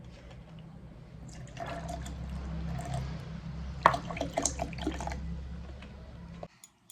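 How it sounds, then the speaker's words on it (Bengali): A little cold water poured into a mixer jar of spiced ingredients, a soft continuous liquid trickle with faint drips over a low steady hum, ending with a brief clatter as a lid goes on. "ঠান্ডা জল অল্প একটু দেবো, ঠান্ডা জল।"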